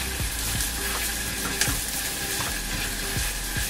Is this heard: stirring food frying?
yes